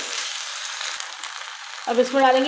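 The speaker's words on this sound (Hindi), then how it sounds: "तो ये चिकन अच्छा सा फ्राई हो चुका है।" Chicken fries in a karahi for a white karahi dish, with a steady close-up sizzle that grows louder near the end as a voice starts speaking over it.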